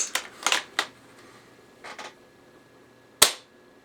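A UTG Gen 5 Master Sniper airsoft rifle is handled and fired, giving a cluster of sharp snapping clicks, then a pause and a single crisp shot near the end, close and fairly loud with no talk.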